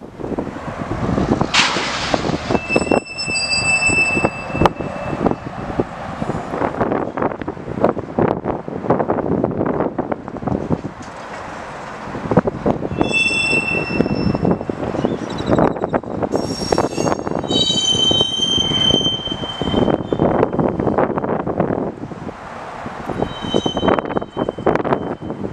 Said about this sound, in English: Listen to how hard some of these cars hit.